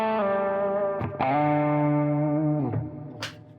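A sustained electric guitar lead tone with thick overdrive from a Bluesbreaker low-gain pedal, a few held notes with slides between them, ending in a brief pick scrape.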